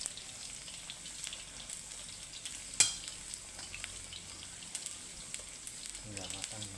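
Cabbage cooks in a hot pan with a continuous soft frying crackle, one sharp clink partway through and light stirring scrapes near the end.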